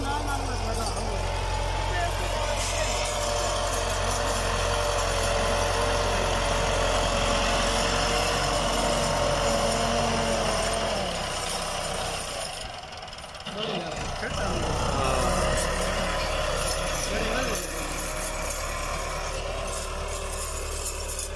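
A tractor engine runs steadily and loudly throughout in a Pakistani village field, with a deep continuous rumble and a brief dip in the middle, while people talk over it.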